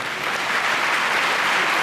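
Church retreat congregation applauding in Bergerac, France; a steady, even wash of many hands clapping, moderately loud and sustained, with no talk over it.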